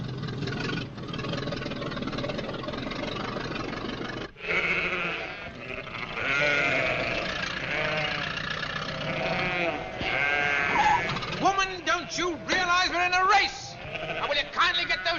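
Several sheep bleat in wavering cries, some close and loud, mixed with people talking and a low engine-like rumble underneath, in a 1953 British comedy film.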